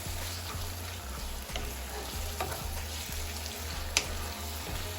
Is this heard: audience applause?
no